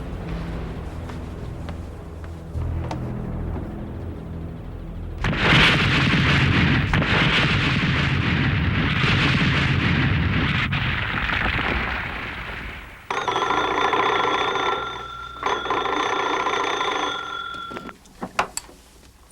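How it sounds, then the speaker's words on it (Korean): A house is blown up in a long, rumbling blast that roars for several seconds and then fades, followed by a telephone ringing in repeated bursts. "집이 폭파됐어요."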